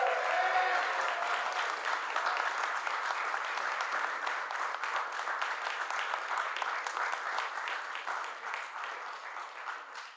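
A crowd at a union kick-off event gives a sustained round of applause for its national officers, with loud, full clapping that holds for about ten seconds and tapers slightly at the end.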